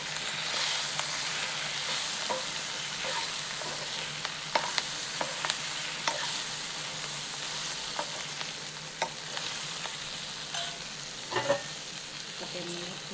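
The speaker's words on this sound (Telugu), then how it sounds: "టమాటోస్ కూడా ఆనియన్స్ లాగా ఒక 10 మినిట్స్ మంచిగా ఆయిల్లో మగ్గనివ్వాలి." Tomatoes with chopped coriander fry in oil for a paneer curry, giving a steady soft sizzle with scattered clicks and scrapes of stirring close by, and no talking.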